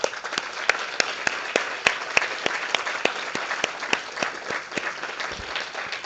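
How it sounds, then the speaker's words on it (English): An audience applauds a guest lecturer, Professor Pierre-Marie Dupuy, after an international law lecture, with steady dense clapping from a sizable crowd and a few sharper individual claps standing out, sustained throughout. "extend a warm thanks and gratitude and applause to our guest"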